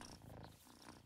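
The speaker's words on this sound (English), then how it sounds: "He's purring." A soft, steady purr rumbles close by, a continuous low vibrating hum with no other sounds, from a cat in the video game Baldur's Gate 3.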